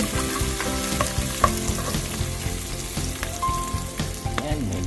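Onion and garlic fry in a pan for sautéed pechay, giving a steady crackling sizzle with scattered clinks of stirring, close and continuous with no talking.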